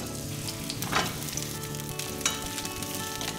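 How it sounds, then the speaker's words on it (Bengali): Pointed gourd pieces fry in mustard oil in a wok, giving a dense, even crackling sizzle up close with a couple of brief louder pops, with no voices. "পটলগুলো ভাজবে।"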